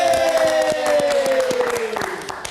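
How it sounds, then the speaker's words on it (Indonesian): Studio audience applause at a live Indonesian variety show rises as a dense patter of clapping under a falling musical tone, loud and close, with a voice talking over it. "Tepuk tangan dong buat Polygon."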